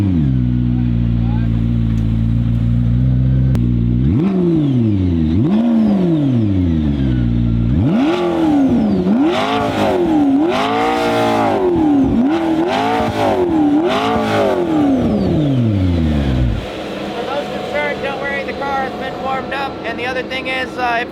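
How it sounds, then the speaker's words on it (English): A McLaren P1 supercar starts up and pulls away, the engine cranking and then revving repeatedly in rising and falling sweeps before settling to a lower drive-off drone, close and loud, with someone talking faintly at points. "turn on this P1,"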